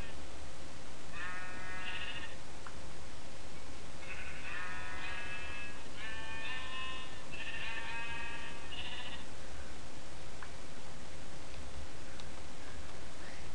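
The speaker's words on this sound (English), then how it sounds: "there's some sheep there" Sheep in the video game Minecraft bleat in several short bursts, with a couple of isolated calls and then a rapid run of overlapping bleats, over a faint steady hum and background hiss.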